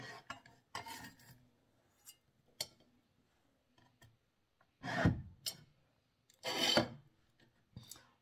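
Garlic and onion being stirred in a pan, giving scattered rasping, scraping strokes of a utensil against the cookware, with two longer louder sweeps and quiet gaps between, close and alone.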